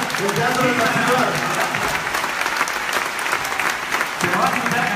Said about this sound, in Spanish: ¡Ese es el aplauso que le da el Teatro de la Ciudad!